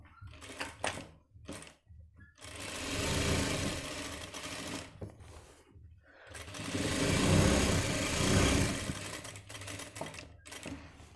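Sewing machine stitching the back pocket of a men's trouser, two long whirring runs of rapid stitching separated by short bursts and pauses, close and clear.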